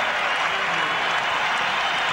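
A basketball arena crowd roars and applauds in a steady, dense wash of cheering during a 2003 Los Angeles Lakers vs Minnesota Timberwolves playoff game, with no pauses.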